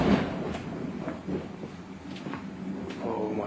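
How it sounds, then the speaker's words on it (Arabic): A train rumbles along with low, continuous rolling noise and intermittent clanks and rattles from the carriages, heard from inside an empty passenger carriage at close range, in Iraq. "سمع الاصوات. القطار يمشي."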